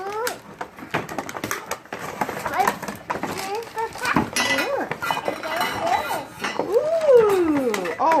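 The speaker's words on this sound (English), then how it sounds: "Oh wow, you have lots of pots and pans." Pots, pans and cutlery clinking and clattering in a home kitchen, a run of sharp metallic knocks and rattles under overlapping voices.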